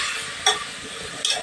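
Brinjal and potato curry being stirred in a pan, a soft continuous scraping and sizzling with a couple of louder spoon-against-pan scrapes, close and alone without talk.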